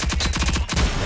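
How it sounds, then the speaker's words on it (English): Rapid automatic gunfire in the video game Rogue Company, a dense burst of evenly spaced shots that pauses briefly and then resumes, loud and close with no talking. "I was just shooting at her"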